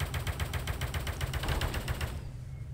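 Sustained full-auto gunfire in the VR shooter Space Pirate Trainer, a rapid, even stream of shots that runs steadily for a couple of seconds and then cuts off abruptly into near silence.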